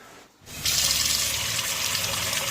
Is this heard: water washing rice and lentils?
yes